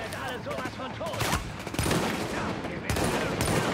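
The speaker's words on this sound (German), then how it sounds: "warum fallen jetzt die Schüsse?" Rapid bursts of gunfire from several weapons in the shooter video game The Division, sharp and close, with voices talking over the firefight.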